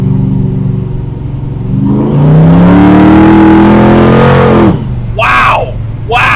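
The engine of a 1968 Camaro Pro-Street car revs hard in third gear while driving, rising to a loud, sustained roar before dropping off. A voice comes in briefly afterward.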